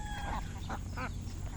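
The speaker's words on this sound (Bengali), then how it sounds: "আমাদের হাঁসগুলা পালতেছি।" Domestic ducks by a flooded riverside field giving a few short, nasal calls, three or four bursts over a steady low background hum.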